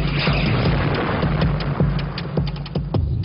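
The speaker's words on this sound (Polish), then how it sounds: "Znowu usłyszałem odgłos pociągu pędzącego przez tunel i nastąpił kolejny wybuch." Rocket strikes explode in a tank battle at the Hochwald Gap, a dense continuous rumble of blasts with repeated sharp booms, loud and close throughout.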